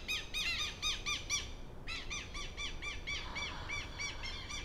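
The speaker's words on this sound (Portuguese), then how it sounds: "Ó, os passarinhos cantando." Small birds sing outdoors in repeated bright, chirping phrases, close and lively, continuing over a soft background hiss.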